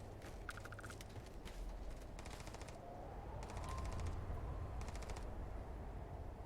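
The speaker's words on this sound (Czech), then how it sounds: "Kdo to střílí?" Gunfire in the Starfield video game, several short bursts of rapid automatic shots spread across the clip over a steady low rumble of background noise, with no talking.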